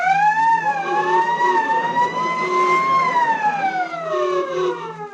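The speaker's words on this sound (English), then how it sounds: "Fire engines came running, and there was much excitement." A fire engine siren wails steadily, rising and falling in a smooth sweeping tone, loud and close with a low engine rumble underneath.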